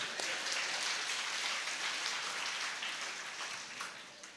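A church congregation claps hands in a steady, dense wash of applause that fades slightly toward the end, with no speech over it.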